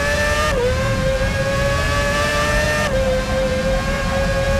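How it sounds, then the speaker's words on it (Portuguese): Ferrari 248 Formula One car engine from the 2006 season in the F1 2006 PS2 racing game at Monza, a loud, steady high-revving whine with brief pitch dips at gear shifts, running continuously. "Ferrari 248 que disputou em 2006 até a última corrida com Fernando Alonso"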